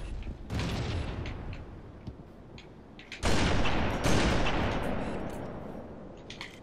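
Sniper rifle shots in Halo 3, two heavy booming blasts standing out over steady dense battle noise, loud and close with a long rumbling tail after each.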